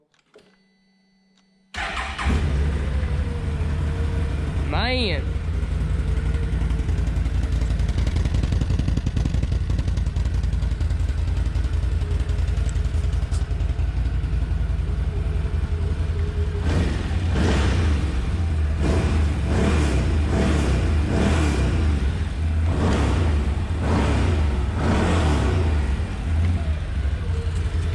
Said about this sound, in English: so that's the factory exhaust sound.